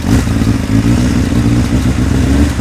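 A 1991 Honda CBR 600F (PC25) inline-four engine, cold and with a struggling chain tensioner, revs loudly close by with a throbbing, slightly clattery note that runs throughout.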